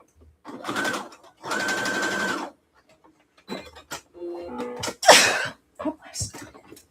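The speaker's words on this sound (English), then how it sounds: "Sneeze finally came out." A single sharp sneeze bursts out in a quiet sewing room, coming after bursts of a running sewing machine and a brief voice.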